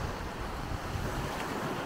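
Wind and breaking surf roll over a beach at Hua Hin, a dense, steady roar of waves mixed with gusty wind rumble on the microphone, with no voices.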